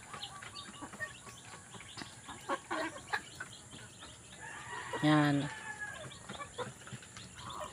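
A rooster and his hens cluck on a rural farm, with scattered soft clucks and one louder drawn-out call partway through, moderately near, while a person talks over them.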